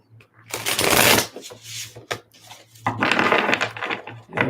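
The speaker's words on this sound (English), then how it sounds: "let's get these energy cards shuffled" Tarot cards being shuffled in several brisk riffling bursts, close and crisp, with short pauses between and a faint steady hum underneath.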